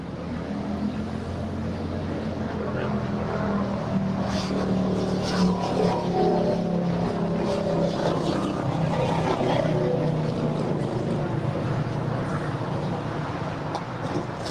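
A heavy jet climbs away from LAX, its engines producing a loud, steady broadband roar that holds for the full stretch without letting up.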